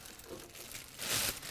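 A plastic bag crinkles and rustles close up as roasted chiles are put inside, with soft scattered crackles building to a louder burst of crumpling near the end and no talking.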